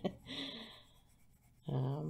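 Prismacolor colored pencil scratching over paper in steady, close strokes, a continuous dry scraping that pauses briefly before resuming more strongly.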